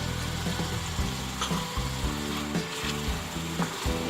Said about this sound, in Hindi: ये सारी चीजें डाल के इसे अच्छी तरह से भून लेना है